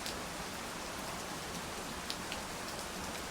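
Steady rain falls evenly on a surface, a dense soft hiss of drops with no break, faint and unchanging throughout.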